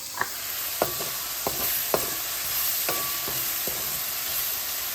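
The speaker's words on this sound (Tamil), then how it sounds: "தக்காளி பழமும் போட்டு வதக்க வேணும்" Tomato and cabbage sautéed in a pan for a curry, a steady hiss of frying under a series of sharp spoon taps and scrapes against the pan, spaced unevenly.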